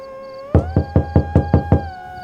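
Seven sharp knocks on a door in a quick, even rhythm, close and clear over a soft sustained musical tone, a sound effect for a spooky village story.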